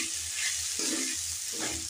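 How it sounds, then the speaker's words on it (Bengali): Cauliflower being stirred with tomato sauce in a frying pan, a soft steady sizzle under a few scraping strokes of the spoon, close and fairly quiet. "টমেটো সসটাকেও খুব ভালো করে ফুলকপির সাথে মিশিয়ে নিচ্ছি।"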